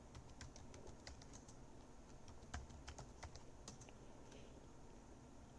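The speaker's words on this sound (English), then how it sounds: "Yes, I want to change it, so hit enter and type it in." Rapid clicking keystrokes on a computer keyboard while entering a root password during a MiyoLinux install, fairly faint over a steady background hum, with a few faint bird coos in the distance.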